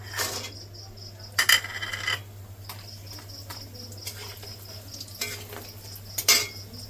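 Dried lentil dumplings (bori) clatter into a pan while cooking Bengali shukto, a few sharp clinks and taps against metal spread over several seconds above a steady low hum, with no talk.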